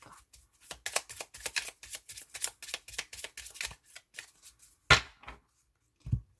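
A deck of oracle cards is cut and shuffled in a run of quick papery riffles and flicks, followed by a couple of sharper slaps as the cards are set down, close up and with no talking.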